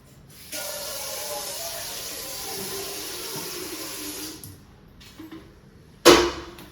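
Water streams steadily into an idli steamer pot for about four seconds, a close hissing pour that stops, followed by a few small clinks and a sharp metallic clatter near the end.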